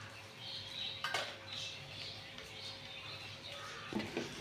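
A spoon scrapes and clinks against a pan while paneer fried rice with spices is stirred, light metallic taps and scrapes at irregular intervals over a faint steady hum, with no voices.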